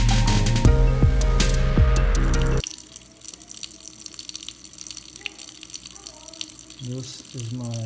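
Water running steadily from a faucet, close and fairly loud, then cutting off, leaving quieter drips, clatter and brief voice sounds near the end.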